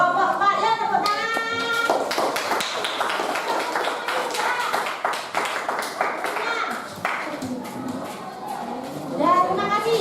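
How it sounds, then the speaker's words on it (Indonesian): Schoolchildren in a classroom clap for a student group, with scattered, uneven hand claps and taps mixed with voices talking over and around them. "Kelompok 4 ya, tepuk tangan."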